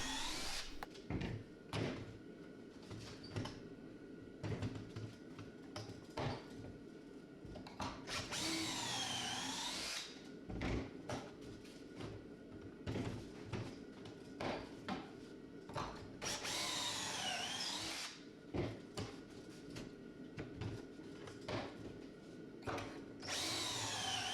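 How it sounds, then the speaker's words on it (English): A power drill bores pocket holes in workbench boards, with several long, loud whirring bursts separated by quieter handling, clatter and bumps of the wood. "Now I can start making all the pocket holes that are needed."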